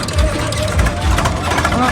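Several tractors travelling together in a rural convoy give a close, steady low engine rumble, with a voice speaking over it.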